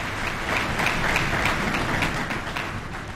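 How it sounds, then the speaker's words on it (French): Audience applause at a conference on sexual harassment following a speech by the First Lady: a steady, dense wash of clapping that holds evenly for the whole stretch, fairly close and with no voices over it. "Une initiative qui peut être encouragée une fois de plus par des applaudissements."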